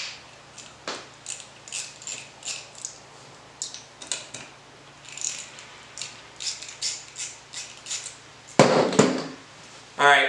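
A 5/64 hex key loosens the small set screws holding a Bowden Tactical drop-in trigger in place, giving a string of quiet, close clicking and ratcheting ticks in an irregular rhythm, ending with a couple of louder scraping bursts.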